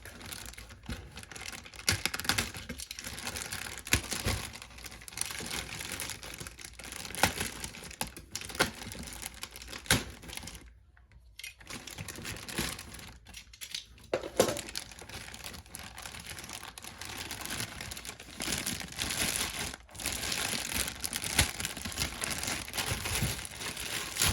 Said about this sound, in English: Let me just cut the bag and get it out.